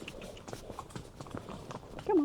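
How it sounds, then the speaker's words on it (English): Horse hooves clip-clopping on a horseback trail ride toward El Limón waterfall, a faint steady patter of hoofbeats in the background, ending with a brief louder sound. "It's just me and the horse now."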